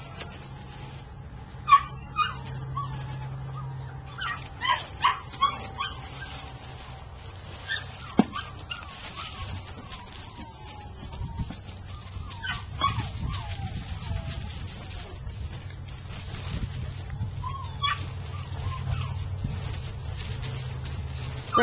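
English cream golden retriever puppies whimper and give high yips, with short whines scattered through, some louder bursts early, over a low background hum; a voice speaks briefly.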